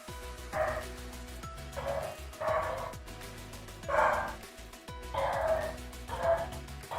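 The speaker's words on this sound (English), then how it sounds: "The dogs are going at it." Several dogs bark and yip in repeated bursts about once a second, fairly close and loud over a steady background hum.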